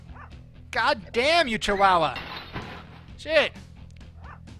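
Small chihuahua in the Bad Rats video game giving a few high yelping barks and whimpers in quick bursts, with someone talking over them.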